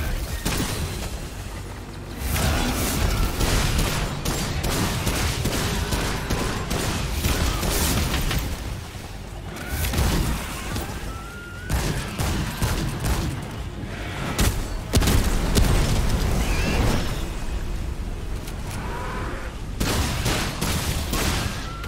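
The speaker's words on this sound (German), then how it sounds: "Da habe ich doch noch einen Schuss gehört." Dense, continuous gunfire and heavy booming explosions from the video game Remnant 2, loud and sustained throughout with rapid overlapping bursts and low thuds, no voices.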